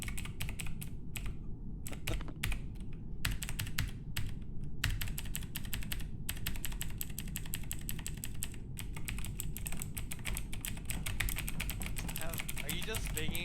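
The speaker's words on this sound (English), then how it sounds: "Are you just banging on your keyboard?" Rapid, continuous typing on a computer keyboard during an Among Us game, dense key clatter running steadily throughout with brief pauses, close and fairly loud over a low background hum.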